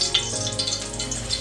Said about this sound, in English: And now I can sizzle it.